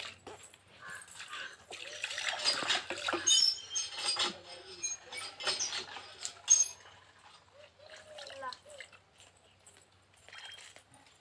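A pet rat is bathed as water is poured over it, with uneven splashes, trickles and small clinks coming in bursts, close and fairly quiet between the pours.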